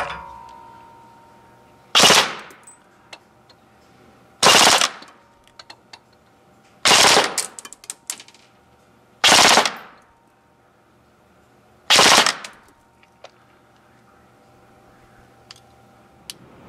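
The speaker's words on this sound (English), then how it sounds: "now we're going to check the rate of fire with an 11-1 lithium polymer battery" A KWA KM4 SR10 airsoft electric rifle firing on an 11.1 V lithium polymer battery, heard as five short full-auto bursts of fast buzzing shots spaced a few seconds apart, loud against a quiet outdoor background.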